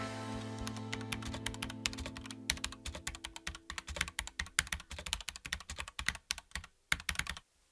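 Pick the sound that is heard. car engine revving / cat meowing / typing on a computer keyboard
typing on a computer keyboard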